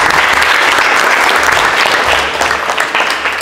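Audience applause fills a school excellence-day ceremony held by the Keur Massar departmental council, steady and loud throughout with dense overlapping claps, easing slightly near the end.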